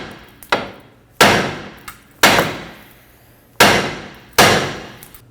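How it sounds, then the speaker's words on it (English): Hammer blows striking the steering knuckle of a 2014-2023 Ford Transit Connect to free the outer tie rod: six sharp metallic strikes in uneven pairs, close and loud, each ringing briefly before the next. "I'm going to strike the knuckle with a hammer until the tie rod drops"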